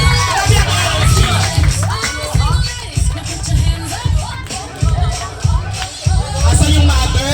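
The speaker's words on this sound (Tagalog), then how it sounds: "Palakpak kayo! Grabe ang energy!" Party audience at an 18th birthday celebration cheering, shouting and clapping loudly in continuous bursts, with crowd babble and whoops throughout.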